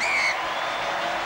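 The Ericsson Stadium crowd at a 1999 Tri-Nations rugby league final between New Zealand and Australia applauds in a steady wash of clapping and crowd noise, with a brief whistle-like tone at the start.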